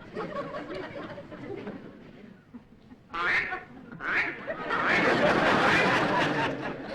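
A voice imitates a duck's quacking in a few loud, nasal bursts, following some low, muffled talk.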